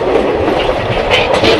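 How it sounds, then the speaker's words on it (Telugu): A train approaches and rolls past on the opposite track near the outer approach to Vijayawada Junction, heard from aboard a stationary express. A loud, steady rumble of wheels and wagons fills the short stretch, with rising clatter toward the end. "ఆపోజిట్లో అయితే ఏదో ట్రైన్ అయితే వస్తుంది."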